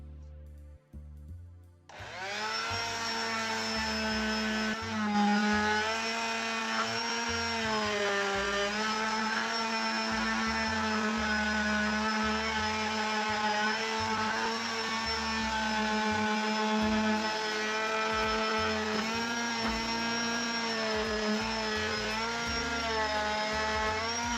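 A steady, loud electric sander with abrasive paper whines and buzzes against a wooden trunk, starting after a brief moment and running continuously with slight shifts in pitch.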